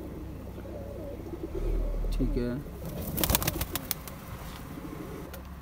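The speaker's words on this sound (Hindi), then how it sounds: "जी सर ये फिरोजपुरी कबूतर है।" Firozpuri pigeons coo softly in a loft, low throaty calls near the mic mixed with some clattering and flapping, while someone speaks briefly.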